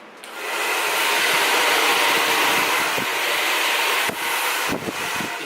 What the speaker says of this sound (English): So I have this one, the hair blower. When I press it